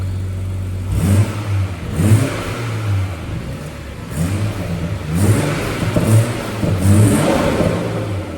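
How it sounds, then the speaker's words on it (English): BMW M140i with a B58 engine and a front-mount intake, revving repeatedly in bursts of rising and falling engine note, close and fairly loud, with no talk. "when the car's under load, it sounds alright, but on an idle, it's a bit dead"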